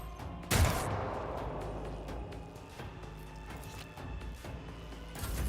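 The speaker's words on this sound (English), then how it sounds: "Now I'll shoot this guy too." Gunfire in the Warhammer 40K Rogue Trader video game: a sharp, loud shot rings out and echoes away, followed by quieter clatter and a second burst at the end.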